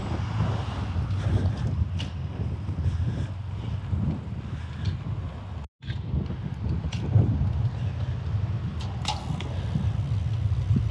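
Strong headwind roaring across a cyclist's microphone on a 400 km Audax brevet ride out of Schleswig, a loud continuous buffeting rush with one brief dropout midway, no talk.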